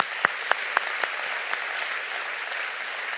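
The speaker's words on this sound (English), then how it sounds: "let's give him and Mark Watts a big round of applause" Audience applause fills a conference hall at the 2019 C40 World Mayors Summit: a few sharp, separate claps ring out first, then merge into steady, sustained clapping from the crowd.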